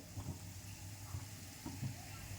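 Shankarpali sweets fry gently in oil over a low gas flame, making a quiet, steady sizzle with a few soft bubbling pops and light stirring noises close by.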